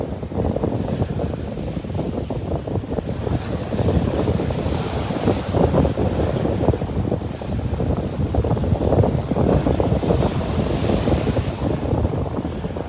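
Ocean waves rolling onto a windy beach in North Naples, Florida, a continuous loud rush of surf with heavy wind buffeting the microphone throughout.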